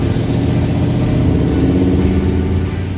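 A Chevrolet Biscayne engine idling close by, a loud, steady low rumble with even pulsing and no talk over it.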